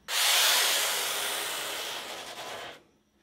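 A single long rasping stroke of heavy-grit sanding gauze runs along a surfboard rail. The scratchy rub is close and loud, then trails off after about three seconds.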